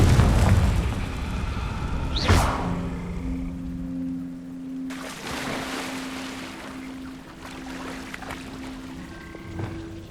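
A Confringo spell explosion from the Hogwarts Legacy video game erupts with a sharp boom near the start, followed by rumbling game ambience, a low sustained tone and another burst about halfway through.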